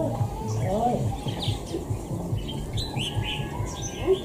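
A caged wild songbird sings short, bright chirps and trills scattered over a low background murmur of someone talking.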